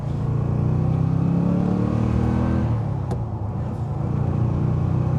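A stock De Tomaso Pantera V8 roars under hard acceleration, its deep engine note climbing loudly through the revs before easing slightly, with a constant rumble throughout.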